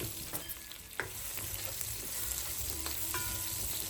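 Garlic sautés in a pan as the base for a sweet and savory pork belly adobo. A continuous quiet sizzle is broken by occasional sharp clicks and scrapes from stirring.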